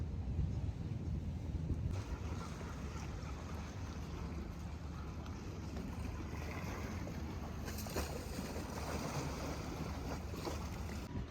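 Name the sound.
boat travelling on water between Venice towns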